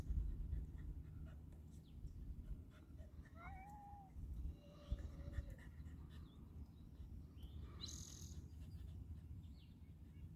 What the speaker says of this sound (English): We have a cat that's come into the